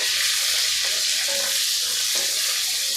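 Onions frying in a pan for masala rice, a steady close sizzle with faint scraping strokes as they are stirred, no voices.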